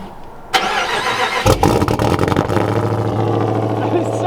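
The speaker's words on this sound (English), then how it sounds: "Cold startup Jeep Gladiator Hellcat" A Jeep Gladiator Hellcat cold-starts with a sharp crank and bark, then flares again before settling into a loud, throbbing idle, with a voice talking over it.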